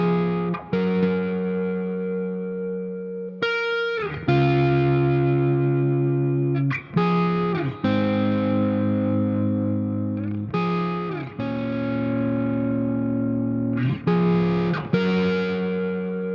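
Overdriven electric guitar played through a Neural DSP Archetype amp plugin: distorted chords ring out one after another, each sustaining a few seconds before the next strum, loud and with no voices.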